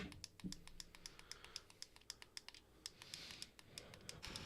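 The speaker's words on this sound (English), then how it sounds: "I hear them clicking noises." Rapid computer keyboard typing, a steady run of sharp, close clicks with uneven rhythm and no talking.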